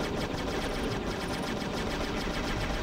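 Dense, continuous rapid turret fire from the Aqua Man video game fills the whole stretch at steady loudness, a relentless machine-gun-like rattle with no pauses.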